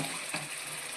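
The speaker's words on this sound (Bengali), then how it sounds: "এবার মাংস দিয়ে দেবো, মাংসটা দিয়ে ভালো করে কষে শুকনো শুকনো করে নেবো" Chicken sizzling steadily in a pan with onion and garlic, a continuous loud hiss of hot oil with a brief stir in the middle.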